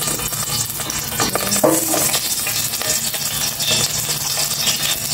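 Garlic sautéing in hot cooking oil in a pan for chicken afritada, a steady close sizzle and fry with brief stirring scrapes, no talking.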